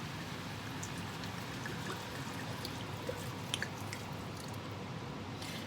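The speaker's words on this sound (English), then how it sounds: "And what you got to do is pour that in." White wine pours into a pot of fish and chorizo stew on a boat, a steady close splashing stream that runs throughout.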